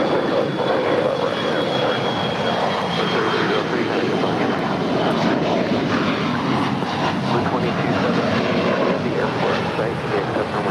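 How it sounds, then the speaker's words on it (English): A five-year-old SkyWest Embraer E175 LR jet departing LAX for Austin, a loud, sustained engine roar with a thin high whine running through it, steady from start to finish. "That is SkyWest 3303 departing to Austin. It's a 5-year-old Embraer E175 LR."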